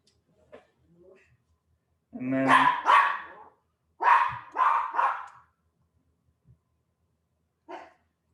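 A dog barks in two bursts of loud, close barks, a pair then a run of three, with a few faint yips and one short bark near the end.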